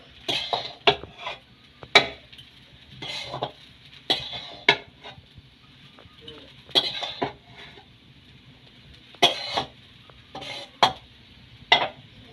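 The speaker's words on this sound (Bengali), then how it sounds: "একটু নুন দিয়ে দিলাম নুন দিয়ে ভালো করে নেড়ে নিলাম" Chow mein noodles being stirred with salt in a pan, a run of sharp spatula scrapes and clinks against the metal at an uneven rhythm over a faint sizzle, close and fairly loud, with no talking.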